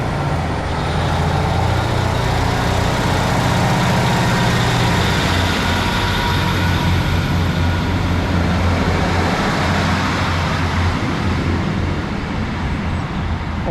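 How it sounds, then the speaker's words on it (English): A diesel train pulls out of North Road station bound for Darlington, a steady heavy engine drone and wheel rumble filling the air continuously and fairly loud throughout. "watch the train go out in just a moment"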